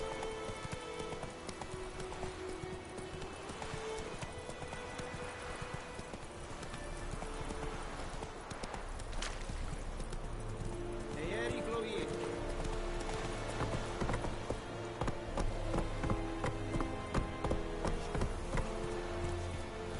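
Roach the horse galloping in The Witcher 3, a steady rhythmic clip-clop of hooves running throughout, with a low continuous rumble beneath and occasional voices over it.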